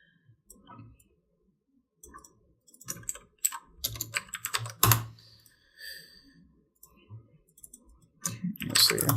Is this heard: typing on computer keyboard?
yes